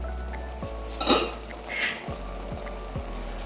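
A metal cooking-pot lid lifts off with a bright clink and scrape, followed by a second softer metallic rub, while faint clicks and ticks sound in the kitchen during spinach and mango curry cooking.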